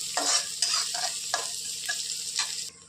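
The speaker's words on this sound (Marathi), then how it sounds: "दोन कांदे घेतले आता ह्याला छानसं लाल करून घेणार आहोत" Two small chopped onions fry in a pan, stirred in repeated scraping strokes over a bright, close sizzle, with no talking.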